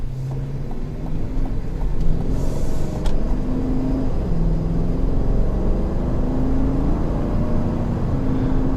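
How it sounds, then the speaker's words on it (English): V8 engine of a 2021 Chevrolet Tahoe High Country while driving, a loud, deep, steady rumble with low pitch shifts as it revs, heard from inside the cabin without talk. "What do y'all think of the sound of that V8?"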